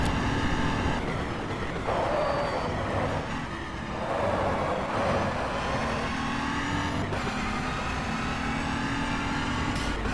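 A 2012 Audi R18 Ultra prototype in the GTR2 racing game runs under throttle, its engine droning loudly and continuously from an onboard perspective with brief shifts in pitch.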